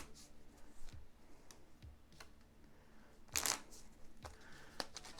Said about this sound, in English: so each player shuffles their decks.